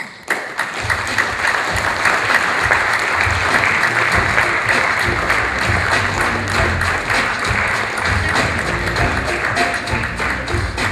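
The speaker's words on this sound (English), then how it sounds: "kindly give him a welcome in the round of applause" A steady, loud round of applause from an audience at a quiz event, dense clapping sustained without a break, with no voices over it.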